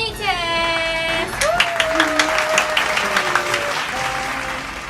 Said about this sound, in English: So give an applause to the fetus.